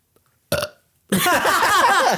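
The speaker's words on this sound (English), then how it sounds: "there's your second burp of the season" A short sound comes first, then a long, loud, gurgling burp rolls on close up for over a second with no talk around it.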